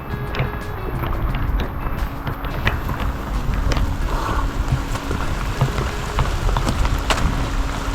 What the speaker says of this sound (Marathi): जोरदार वारं आणि पाऊस त्याचा संगम आहे